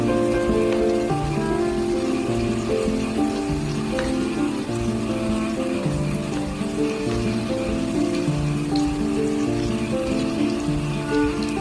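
Stuffed okra frying in hot oil for a crispy dish, a dense, even sizzle and crackle that stays loud and close throughout, with no talk.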